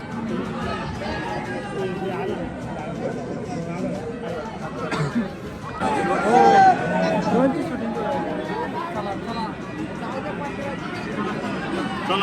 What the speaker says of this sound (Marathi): लाईन किती आहे बघ, लोकांची गर्दी.